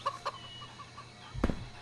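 Brief clucks from a chicken in the game CHKN, a few soft clicks early on followed by a louder squawk near the end over a low background hum.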